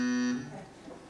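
A quiz show buzzer on a French game show, one loud flat electronic blare lasting about a third of a second before cutting off into faint room noise.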